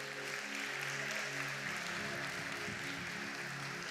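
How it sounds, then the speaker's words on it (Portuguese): A church congregation applauds during a sermon, sustained dense clapping from a large crowd that holds steady throughout at moderate distance. "Você pode dar uma salva de palmas ao nosso Deus?"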